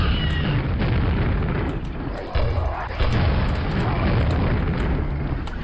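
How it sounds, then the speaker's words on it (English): Repeated booming blasts in the Arcane Dimensions game, a dense, loud run of explosions that keeps going without a break. "What the heck were they exploding exactly then?"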